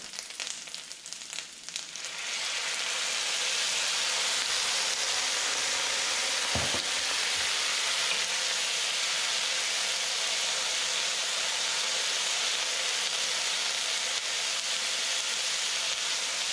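Squid sizzles loudly in a hot pan as rice wine is added, a short quieter stir giving way to a continuous intense frying hiss that holds steady to the end.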